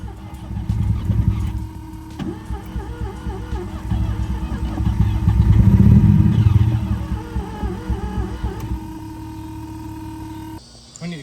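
A Mazda RX-7 FB GSL-SE rotary engine running on its first start in 16 years with the throttle held wide open, a loud, close, uneven rumble that swells and sags before cutting out near the end, with people talking over it.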